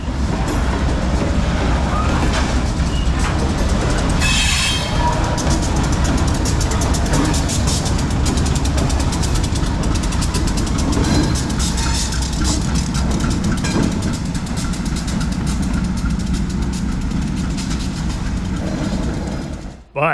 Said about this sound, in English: As the correctly painted OG GE B39 brings up the rear of P&W CT2